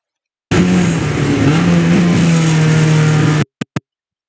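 A race car engine at VIR North track roars loud and close under full throttle for about three seconds, its pitch rising slightly, then cuts off abruptly, followed by two short blips.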